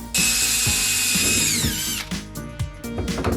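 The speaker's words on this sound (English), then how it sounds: "Now we're going to drill the pilot hole." A power drill whirs at high speed close by, drilling a pilot hole in a cooler, winding down after a couple of seconds, followed by a few short bursts and clicks.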